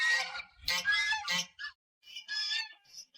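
A goose honks several times close by, loud nasal calls in two bursts separated by a short pause, with no talking.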